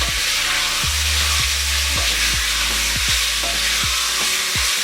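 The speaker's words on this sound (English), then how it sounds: "we're going to throw this in our hot olive oil now. Give it a bit of a stir." Beef for a braised ragù sizzles loudly in hot olive oil, a constant close hiss with a steady low hum beneath and repeated thuds and scrapes of a spoon stirring the meat.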